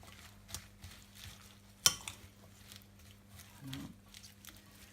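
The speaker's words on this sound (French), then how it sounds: "Mélangeons notre assaisonnement à nos endives qui ont été préalablement émincées." Thinly sliced endives tossed with dressing in a bowl for a salad with coppa, pear and Fourme d'Ambert, giving soft, quiet stirring rustles with one sharper clink partway through and no talk.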